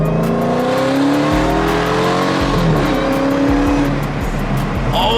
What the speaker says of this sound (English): Nothing like a fucking, V12 Lamborghini, bro.